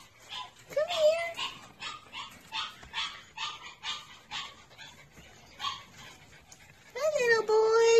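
Several young puppies, from a litter ready for adoption, yip, whimper and bark in quick irregular bursts at close range, mixed with a high drawn-out whine, while someone talks to them.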